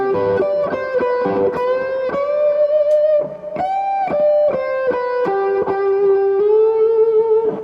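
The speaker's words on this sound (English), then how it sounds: "Just trying to get the sound of a whammy bar the way he did it." Electric guitar notes bent up and down with the fingers, giving a wavering, whammy-like pitch swoop over picked notes, played close and fairly loud.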